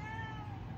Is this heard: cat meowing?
yes